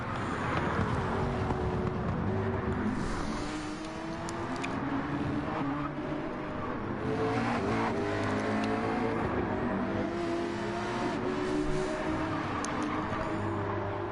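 Race car engines roar steadily in a PS4 racing game at Bathurst, with continuous revving and shifting pitch throughout, loud and close with no pauses.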